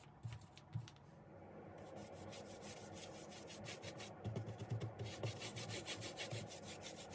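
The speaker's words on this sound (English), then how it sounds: "So I opted to use sandpaper and just do the best that I could." Sandpaper rubbed by hand across a wooden pantry door, a quiet, continuous scratchy rasp in steady back-and-forth strokes, faint and close with no talking.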